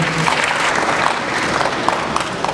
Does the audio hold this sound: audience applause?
yes